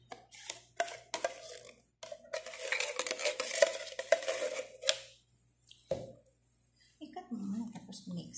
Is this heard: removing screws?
no